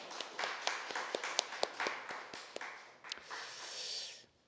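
A Sunday worship congregation gives a round of clapping to close the sermon, fairly faint and somewhat distant, with sharp individual claps standing out before it trails off.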